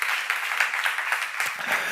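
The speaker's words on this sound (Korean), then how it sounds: "박수로 하세요." A church congregation at a seminar claps together in a short, busy burst of applause, a fairly close and even patter of many hands lasting about two seconds.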